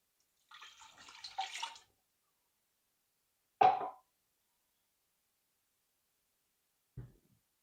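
Broth poured into a pot of Mexican-style chili, a brief splashy pour followed by two isolated soft plops, close and quiet with silence between.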